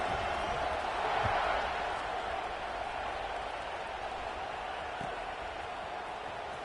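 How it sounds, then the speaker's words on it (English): Stadium crowd in a football video game's dynasty mode buzzing after a touchdown, a steady dense roar of many voices with a slight swell near the start, sustained throughout. "this crowd is buzzing after that last score"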